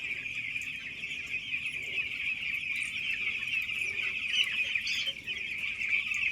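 Broiler chickens on a poultry farm make a dense, steady chorus of clucks and peeps, many birds close together, with a constant crowded murmur throughout and no talk.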